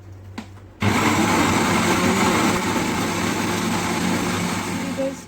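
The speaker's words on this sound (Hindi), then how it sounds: "बस अपना ब्लेंडर ऑन कर लें।" A blender making an Oreo milkshake with ice switches on after a brief quiet moment and whirs loudly and steadily, a constant high-pitched motor whine.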